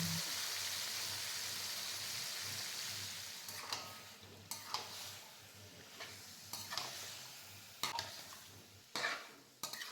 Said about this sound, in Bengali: আমি এখন চিকেনটা 15 থেকে 20 মিনিট কষে নেব।